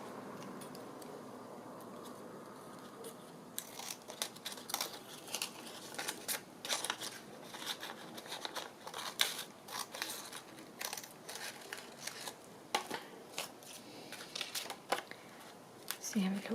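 Scissors snip through a piece of turquoise paper in quick, close, faint crisp cuts with paper rustling, coming in an uneven run of clusters.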